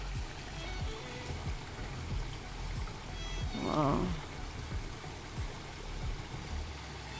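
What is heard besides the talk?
water trickling from a small roadside fountain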